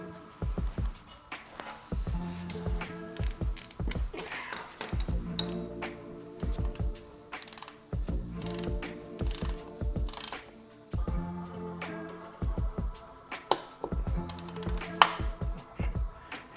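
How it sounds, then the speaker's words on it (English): Torque wrench ratcheting while working on a motorcycle, repeated bursts of close metallic clicking separated by short pauses and handling clanks, with no speech. "I need the torque wrench."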